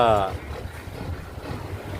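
Strong wind buffets an open-deck passenger boat bound for Koh Kood, with a low engine rumble beneath the steady gusting noise.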